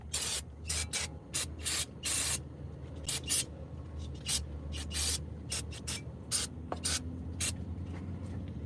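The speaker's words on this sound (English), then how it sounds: "That's the spray I was looking for." Aerosol spray can used on a car's brakes during a brake job on a BMW 430i, about a dozen short sharp hissing bursts of varying length, close and loud, separated by brief pauses.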